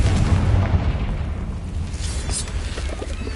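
A loud, deep spell explosion from Hogwarts Legacy: one heavy low rumbling boom whose roar dies away over a few seconds, with no speech.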